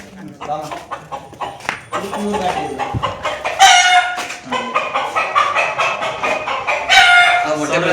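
Native country chickens cluck busily at close range while a rooster crows loudly twice, with voices talking over the birds throughout.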